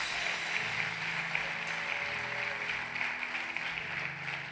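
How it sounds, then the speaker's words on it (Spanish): Church congregation applauding steadily during a sermon, a dense sustained wash of clapping that stays fairly constant throughout. "si le va a dar un aplauso al Señor"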